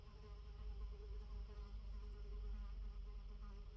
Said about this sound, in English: There's a little fly buzzing around.